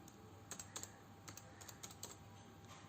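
Keys clatter on a computer keyboard while a MySQL command is typed, a quick run of light, close clicks in short bursts with brief pauses between them.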